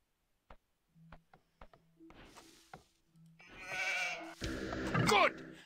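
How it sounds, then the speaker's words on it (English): Sheep in Age of Empires II give a quick run of short clicks and tones, then two wavering bleats rising near the end, clear and close over a quiet background. "Nice, more sheep."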